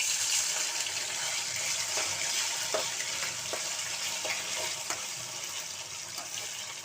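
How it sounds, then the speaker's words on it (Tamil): Marinated chicken frying in hot oil for chicken 65, a steady dense sizzle with faint crackles and pops, close and continuous. "சிக்கனை நல்லா பொரிச்சு எடுத்துக்கலாம்."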